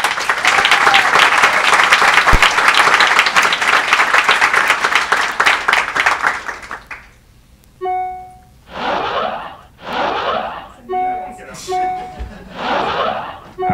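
A comedy club audience at a stand-up show breaks into loud sustained applause for several seconds, which then fades into someone speaking into the microphone with scattered laughter between his lines.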